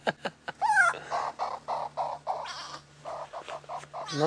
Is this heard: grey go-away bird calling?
yes